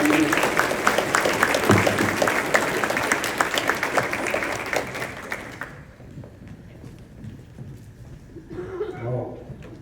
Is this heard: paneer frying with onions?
no